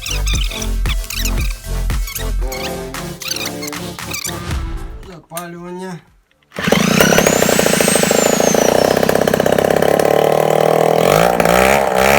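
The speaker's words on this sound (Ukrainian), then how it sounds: "тихо виключу, бо все працює, значить обороти тримаються." A scooter engine idles steadily after a new carburetor is installed, loud and close with a buzzing rattle, following a stretch of speech, a brief pause and a rev as it catches.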